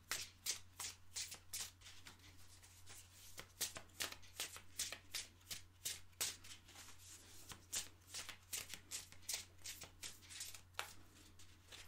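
Spiritual oracle cards are shuffled by hand in quick, repeated riffles, a soft papery flutter rising and falling in a steady rhythm, close and quiet, with no speech.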